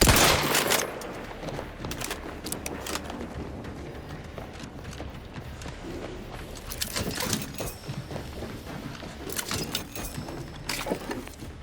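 Gunfire in the video game The Outer Worlds 2: bursts of rapid shots and volleys, loudest at the start and clustered again toward the end, over continuous game ambience with brief pauses between firefights.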